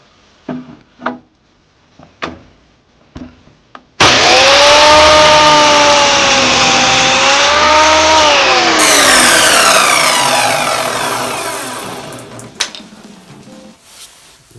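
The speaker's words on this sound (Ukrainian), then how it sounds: "Ясен ріже чітко, не вириває, не припалює." An RZTK miter saw from Rozetka slices through ash hardwood with a loud, steady whine that lasts about eight seconds and then winds down. A few short knocks come just before the cut.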